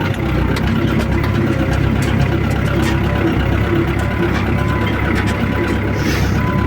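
A YuMZ-8280 tractor drives along a rough meadow track hauling hay, its engine a loud steady rumble with rattling and clanking over bumps, heard close throughout.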